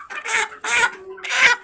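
White chickens cluck in three close, loud bursts at a rooftop livestock pen, each call a short raspy cackle separated by brief pauses.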